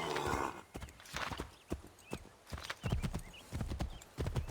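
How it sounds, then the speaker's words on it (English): Rhythmic clip-clop of horse hooves on a hard surface, close and steady, with a brief whinny among the hoofbeats, in the video game Assassin's Creed 3. "Oh, horse."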